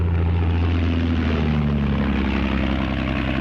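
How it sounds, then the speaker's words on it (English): A steady, loud propeller aircraft drone with a low engine hum that slowly shifts pitch as it passes, from a 1939 film about Douglas Corrigan's flight. "Strange plane sighted north of here."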